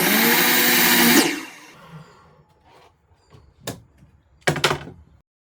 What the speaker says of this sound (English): I go ahead and do this new chop saw technique on the old chop saw here